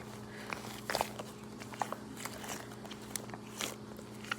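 Frozen duck-shaped squishy toy squeezed by hand, giving a few quiet crunchy crackles and crinkles in short bursts over a faint background hum.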